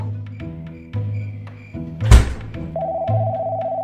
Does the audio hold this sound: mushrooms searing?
no